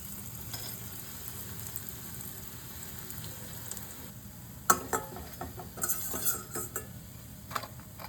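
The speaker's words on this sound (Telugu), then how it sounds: "బ్రెడ్ ఫ్రై అయిందండి. ఇదే విధంగా మిగతా అన్నీ ఫ్రై చేసుకుందాం." Bread slices frying in a pan for Hyderabadi double ka meetha, a quiet steady sizzle that turns into a cluster of clinking, scraping pan and utensil sounds midway, no talking.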